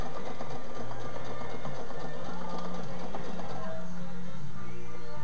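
A sewing machine runs steadily, stitching the elastic casing on a sleeve ironing board cover, a close, continuous rapid whirr that fills the whole stretch.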